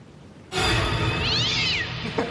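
A cat lets out a single drawn-out meow that rises and falls over a steady background wash, close and fairly loud, with no voices.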